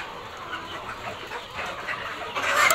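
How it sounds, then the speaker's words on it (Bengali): Desi chickens cluck in a steady, busy chorus at a poultry farm, the sound spread out and moderately near, swelling louder toward the end. "আমাদের মুকুল ভাই দেশি মুরগির খামারি, সে খুব আনন্দের সহিত এই মুরগিগুলো লালন পালন করতেছে"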